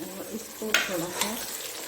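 Onions browning with tomatoes in a pan for Bannu beef pulao give a soft sizzle with stirring scrapes and a couple of sharper utensil clinks, close and steady, while a voice murmurs faintly underneath.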